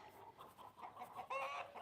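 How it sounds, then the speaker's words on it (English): Soft, high chirping and peeping from baby chicks, a few clucks from mother hens mixed in, fairly close and steady, with a brighter burst of cheeps near the end. "I love little baby chickens."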